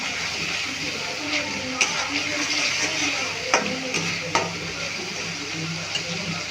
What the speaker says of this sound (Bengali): মশলাটা একটু ভালোভাবে কষিয়ে নেব।